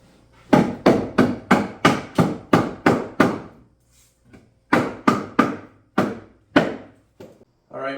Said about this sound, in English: I'll drive home the last few blocks and be all done.